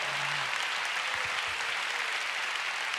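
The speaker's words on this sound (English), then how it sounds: "give the Lord a big hand" A church congregation claps during a sermon, a dense, even wash of applause from many hands lasting the whole moment at moderate loudness.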